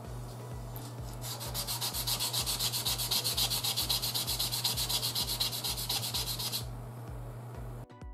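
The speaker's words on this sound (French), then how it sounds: "Et on y va, on ponce." A Mirage 2000C plastic scale model sanded by hand, a steady, close rasping rub in even back-and-forth strokes that carries on for several seconds and then stops.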